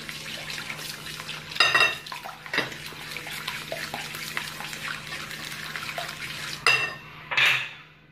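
Eggs, sugar and a pinch of salt are stirred together in a bowl with a spoon for Moroccan egg sfenj dough, giving steady close scraping and clinking with a few sharper knocks against the bowl.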